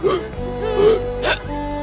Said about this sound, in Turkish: Ne tatlı hıçkırıyorsun